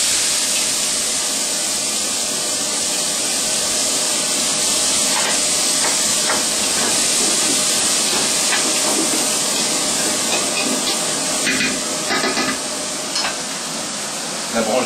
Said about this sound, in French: maintenant, on va faire revenir les oignons, l'ail, le céleri, le poivron